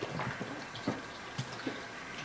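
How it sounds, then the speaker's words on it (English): Bathwater sloshes and splashes in small, irregular bursts as a baby is soaped up and washed in a bath. The soft wet dabs sit fairly close but quiet, with no talk over them. "We're soaping up the baby, washing him."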